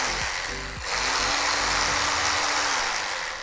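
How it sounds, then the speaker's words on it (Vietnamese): A jigsaw runs close by, starting low then revving up to a steady, fast buzzing drone that holds for several seconds as it cuts quickly. "cưa nhanh nè"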